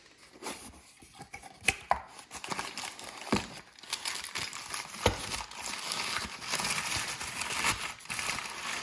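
Close, soft crinkling and rustling of packaging as a KTM 50 SX clutch kit is unpacked, with scattered light taps and crackles throughout.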